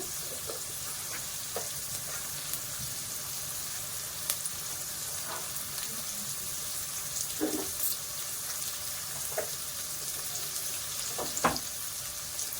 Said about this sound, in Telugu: ఉల్లిపాయ అనేది బాగా మగ్గాలండి.